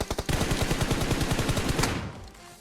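Rapid gunfire in a mobile battle royale game, a fast run of sharp, loud shots in tight rhythm for about two seconds, then cutting off into quiet.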